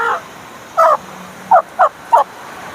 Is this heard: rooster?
yes